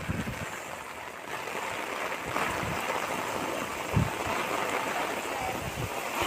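Floodwater rushes in a steady, loud roar after a pond bursts during heavy rain in Rajsamand, India, with a brief thump partway through.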